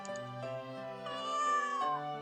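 A cat meows repeatedly and close up, drawn-out tonal cries rising and falling with no talk around them.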